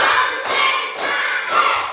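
Schoolchildren in a classroom clapping together in a counted pattern, several loud bursts of group claps separated by short pauses, close and lively with no talking over them.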